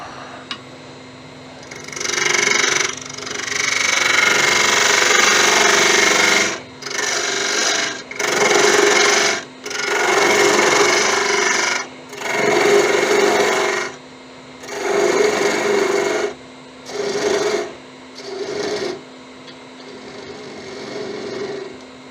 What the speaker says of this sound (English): And cut the mortise.